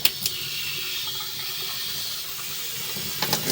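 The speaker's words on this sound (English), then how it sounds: "I'm going to actually run some water here in this stationary tub" Water gushes steadily from a tap into a utility tub, a constant rushing hiss with a few faint knocks at the start and end.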